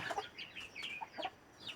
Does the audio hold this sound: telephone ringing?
no